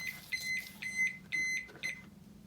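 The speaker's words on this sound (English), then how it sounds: "That was our timer." Kitchen timer beeping in a quiet room, a string of about six short, bright electronic beeps in a quick uneven rhythm, fairly close and alone.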